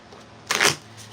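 A deck of tarot cards is shuffled in one short, close riffle, a quick papery burst lasting a fraction of a second against quiet background.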